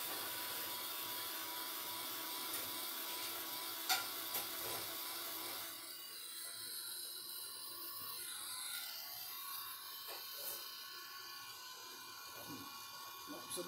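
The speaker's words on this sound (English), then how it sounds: "I'm just going to get my heat tool, I think, so we can make sure the rest of this collage medium's dry" A heat tool blows steadily to dry collage medium on an art journal page, a broad continuous whoosh that runs throughout, slightly easing partway, with a few small taps and handling noises.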